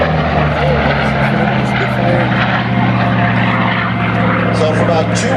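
A propeller racing airplane at an airshow drones loudly and steadily overhead, a continuous rough engine roar with someone talking over it.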